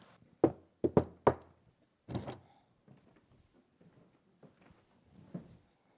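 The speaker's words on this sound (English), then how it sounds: "at the last of which he knocked and entered" Knocking on a door at the end of a narrow passage in an audio drama: four sharp, close raps in quick succession, then a softer thump and faint shuffling and handling sounds in a quiet room.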